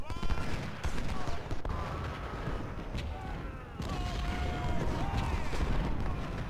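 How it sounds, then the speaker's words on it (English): Gunfire and distant artillery-like booms echo across an Ultimate General Civil War battle, with a sniper firing amid a steady rumble of shots while someone talks over it. "I didn't realize my sniper was shooting at this guy"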